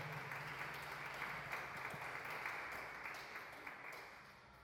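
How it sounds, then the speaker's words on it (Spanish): An audience applauds a lecturer after a nutrition talk, a steady, faint wash of clapping from a hall crowd that tapers slightly toward the end. "Un fuerte aplauso para nuestra conferencista,"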